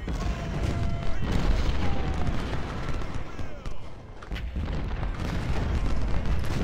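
Infantry musket volleys and artillery fire from Ultimate General: Civil War form a dense, continuous roar of crackling shots and deep booms, loud and steady throughout.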